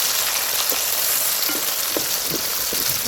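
Beef sizzling and being stirred in a pan while cooking for beef pickle, a steady loud frying hiss with soft scraping stirs dotted through it.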